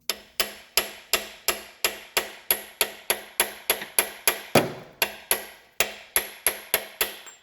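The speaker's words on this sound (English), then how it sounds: "then get a hammer so you can bash the socket" A hammer repeatedly strikes a socket to drive in a crankshaft seal on a 2003 Toyota Corolla, making about twenty sharp, evenly paced metallic bangs close by, with no voices.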